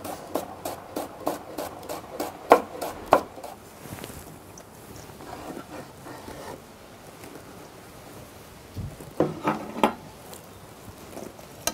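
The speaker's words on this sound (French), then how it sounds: "Donc on va émincer les oignons" Knife chopping onions on a board in a kitchen, a run of quick regular cuts at first, then a pause, then a second short burst of sharp close taps.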